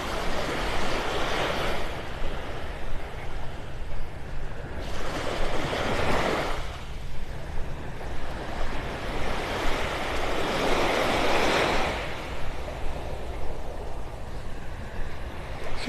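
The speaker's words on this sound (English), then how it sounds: "Seems like every now and then the waves are a little bigger here, stirring things up." Ocean waves break on the shore in a loud, continuous wash, with three surging crashes spaced roughly five seconds apart that each rise and fade back into the steady surf.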